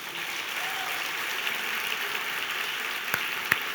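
A church congregation applauding at a baptism service, a dense, moderately distant wash of clapping that holds steady throughout, with a couple of sharper knocks near the end.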